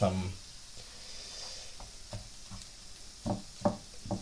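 A meat mixture for Goan croquettes stirred in a frying pan, with a low sizzle under a series of soft scraping and tapping strokes from the spoon, close and fairly quiet.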